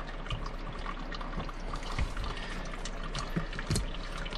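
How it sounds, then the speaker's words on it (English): Water draining out from beneath a kitchen sink faucet during a replacement, a steady trickling splash with a few louder spurts and drips, moderately faint. "you can pull it down out of its hole there and let it drain out"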